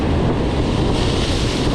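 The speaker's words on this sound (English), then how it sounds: "Man, these waves are nuts." Ocean waves crash and surge against a fishing shoreline, a continuous loud roar of surf heavily mixed with wind buffeting the microphone.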